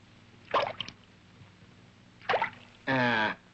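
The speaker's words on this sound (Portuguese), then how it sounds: "Parece o barulho de água pingando" Water drips in a few separate drops spaced seconds apart, ending in a fuller, resonant plop, each drop distinct against a quiet background.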